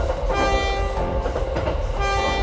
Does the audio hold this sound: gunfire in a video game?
no